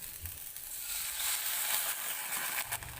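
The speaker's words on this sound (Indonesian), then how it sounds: "Tumis kembali hingga cabenya layu" Chilies with bay leaves and galangal sizzle and crackle as they are stir-fried in a pan, a steady close hiss with a few soft scrapes of stirring.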